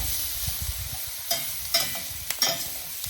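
Unsalted butter sizzles in a pan over medium-high heat while cooking beef stroganoff: a steady, close hiss broken by a few sharp stirring clicks and scrapes, with no talking.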